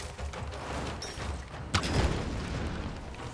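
Explosions in the video game Tomb Raider, a deep rumbling blast rising out of a continuous noisy battle background, close and moderately loud, with no talking.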